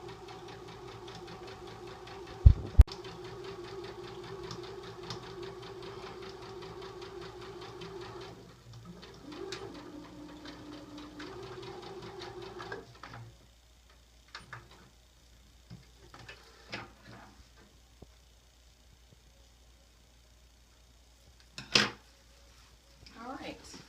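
A sewing machine stitching a pillow runs in a steady, fairly quiet whir for several seconds, then stops, followed by faint handling clicks, a sharp knock and light rustling, with occasional soft talk nearby.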